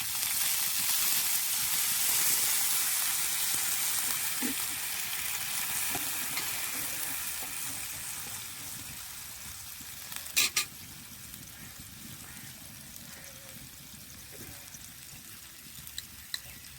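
A splash of water goes into a pan of frying garlic and ginger, setting off a loud hiss that slowly fades to a softer sizzle, with a couple of sharp utensil clinks partway through.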